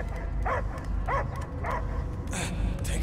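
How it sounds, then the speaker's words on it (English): A dog in the video game Marvel's Guardians of the Galaxy barks in a series of about five short yips over a low game soundtrack rumble, spaced roughly half a second apart. "I hear only barking."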